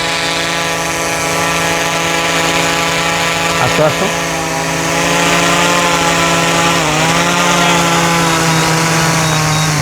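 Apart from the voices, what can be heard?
drone propellers buzzing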